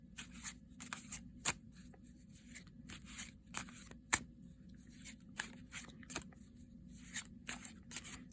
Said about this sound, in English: I've probably not shuffled it enough